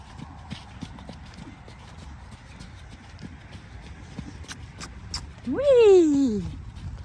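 A horse trots during its breaking-in training, steady hoofbeats on the ground running under a person's voice, and a short, falling tonal call rises near the end.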